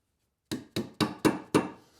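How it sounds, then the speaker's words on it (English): Five sharp knocks from a dead blow hammer driving wooden tenons into tight mortises for a bath vanity frame, evenly spaced and close, with no talking. "Dead blow hammer comes in really handy to get these in."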